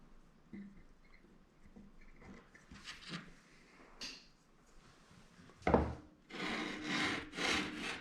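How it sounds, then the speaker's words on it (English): A hand shave scrapes across a wooden spline, raising fine dust: a series of dry rasping, rubbing strokes, quiet at first and then louder and longer near the end, with no talking. "See how it's shaving that dust off of there?"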